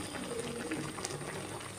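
Steady bubbling of water boiling in a pot, a continuous soft rumble and hiss with no pauses, fairly quiet and close.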